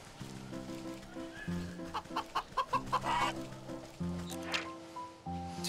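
A golden goose in the video game Wytchwood gives a run of short, rhythmic honking clucks, close and moderately loud over a looping game music bed, with no talking.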